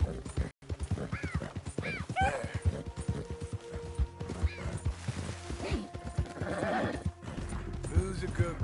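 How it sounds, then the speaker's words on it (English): A horse in the Red Dead Redemption 2 video game, hooves clip-clopping in a quick steady rhythm with snorts and whinnies, close and clear, under a voice talking. "Who's a good horse?"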